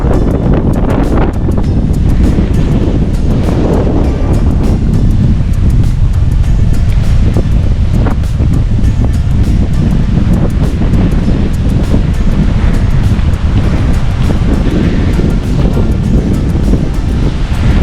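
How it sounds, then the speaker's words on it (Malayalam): Strong coastal wind roars steadily over rough, crashing sea waves at Thottappally, Kerala during a cyclone, with heavy buffeting on the microphone and a dense, loud, unbroken rumble and no talking. "കാറ്റിൻ്റെ സ്പീഡ് ഇതേ നോക്കിയാൽ അറിയാം. ഭയങ്കരമായിട്ട് അടിക്കുകയാണ് ഇവിടെ."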